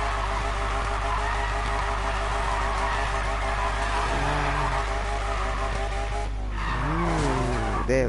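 Nissan GTR drifting in Need for Speed Payback, its tires squealing in long, loud, sustained screeches over a constant engine drone, with pitch sweeping up and down near the end.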